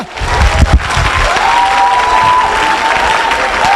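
A crowd at a religious deliverance service claps loudly and continuously, with a few sharper bursts near the start, then a sustained wash of applause. Faint cheering can be heard beneath it.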